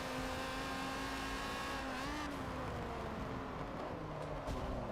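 A Lamborghini Countach race car engine in Forza 7 drones steadily at high revs, its tone rising and falling slightly with a brief pitch climb midway, continuous and fairly close with faint tire noise.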